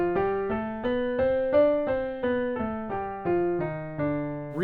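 Dorian flat 2 scale played from D on a sustained, piano-like instrument: about a dozen evenly spaced notes step through the scale, each ringing clearly into the next, close and alone with no voice.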